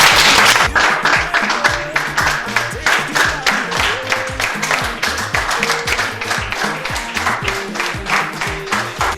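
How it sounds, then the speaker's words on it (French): Audience applause after a presentation, steady broadband clapping running under a background of music with tonal notes, moderately loud and continuous throughout. "Je demanderais que nous nous applaudissons."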